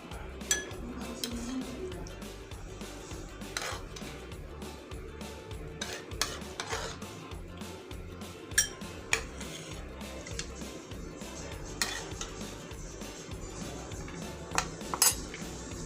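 A spoon clinks and scrapes against a glass while jelly is layered into a homemade rabri falooda. Soft scooping and stirring sounds are broken by several sharp, close clinks of metal on glass in a quiet kitchen.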